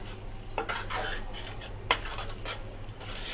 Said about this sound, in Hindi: तीन से 4 मिनट हम मसाले को भूनेंगे।